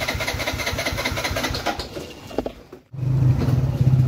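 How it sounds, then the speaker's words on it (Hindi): A motorbike that may be out of fuel and has sat unused for days is cranked with a rapid, rhythmic chugging for a couple of seconds. After a brief stutter and a near-silent gap, a steady low engine drone follows, recorded close up. "बाइक नहीं स्टार्ट हो रही की हो गया तेल तो नहीं खत्म हो गया"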